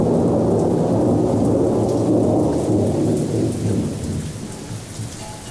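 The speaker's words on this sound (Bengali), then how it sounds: "সূর্যাস্তের পর শ্রাবণের বৃষ্টি যেন আরও জোরে জোরে পড়তে আরম্ভ করেছে।" Heavy monsoon rain pours down with deep rolling thunder, a loud, dense roar that eases off slightly toward the end, with no voices.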